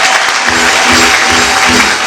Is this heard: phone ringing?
no